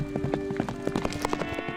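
A running horse's hooves clip-clop in a quick, uneven rhythm of sharp knocks, fairly close, over a faint steady hum and without any talk.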